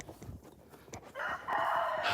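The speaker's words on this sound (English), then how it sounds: "A dang rooster." A rooster crows loudly and close by, a long drawn-out call rising over faint background rustling.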